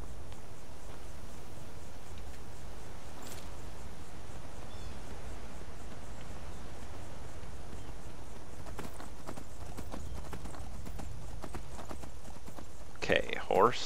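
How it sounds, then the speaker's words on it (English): Steady clip-clop of horse hooves in the video game Skyrim under a constant rustling noise bed, continuous and close, ending with a short louder burst. "Horse, stay at the bottom of the mountain."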